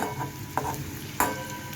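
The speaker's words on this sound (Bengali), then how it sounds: "উচ্ছেটা আমার প্রায় ভাজা ভাজা হয়ে গেছে" Bitter gourd frying in a pan for a mustard sauce dish, a soft steady sizzle with a few louder scrapes or stirs of the spatula, close and fairly quiet throughout.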